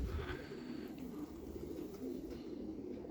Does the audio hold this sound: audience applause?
no